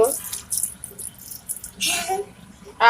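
A small child plays with water, making brief splashes and drips from a tap or basin in quick, uneven bursts, with voices speaking nearby.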